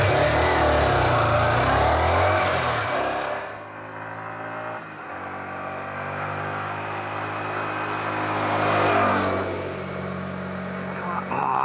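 A 125cc motorcycle on a test ride: a loud engine drone rises and falls as it revs up through the gears, with pitch sweeping upward several times, and a rider talking over it.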